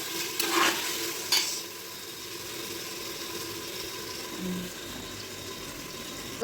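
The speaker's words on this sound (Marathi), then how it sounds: "कांदा फ्राय होण्यासाठी आपण याच्यामध्ये मीठ टाकायचं थोडं" Onions for chicken biryani fry in a pan with a steady low sizzle, a couple of sharp scraping stirs early on and faint clinks later.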